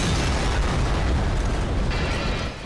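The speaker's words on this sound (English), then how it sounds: "And then an explosion." A loud, sustained roaring blast from an explosion in a steel-building industrial complex during a tornado, filling the whole clip with dense rumbling noise, easing off slightly at the very end.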